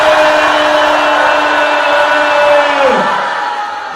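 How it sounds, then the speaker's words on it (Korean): A church congregation at a Korean worship seminar shouts together in one loud sustained roar of massed voices, holding steady for several seconds before falling away. "우리 함께 큰 소리로 함성합니다"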